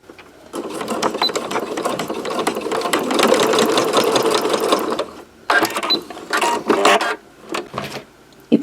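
A sewing machine stitches a zipper with a tab in loud, rapid mechanical bursts, a long steady run and then a few shorter starts and stops, with no voices.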